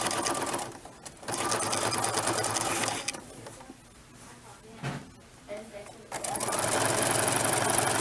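A sewing machine fitted with a roller foot stitches cording in loud, steady bursts that stop and restart, with quieter handling noise in the pauses and a voice talking over parts of it.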